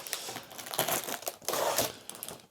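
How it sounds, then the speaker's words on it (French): Packing tape tears off a cardboard box during an unboxing, a close, crackling ripping and crinkling in two or three bursts. "Je suis désolé pour le bruitage du scotch. Ça peut faire un peu de bruit."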